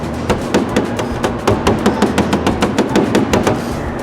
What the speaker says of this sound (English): So all I did was hit it with this body hammer around the edges